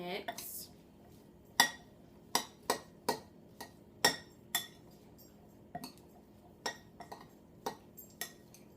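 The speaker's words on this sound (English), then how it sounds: "So giving that a really good mix." A spoon works through a smoky black bean and amaranth burger mixture with red pepper in a bowl, giving a quiet series of irregular metallic clinks and knocks against the bowl, each sharp and close.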